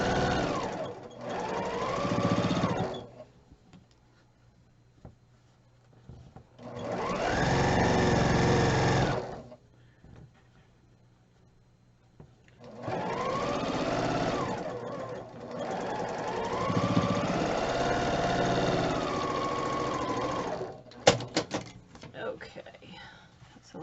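Sewing machine stitching the final seam of a blue quilt block, running in several steady bursts of a few seconds each with short pauses between, fairly close and clear, with a brief clatter at the end.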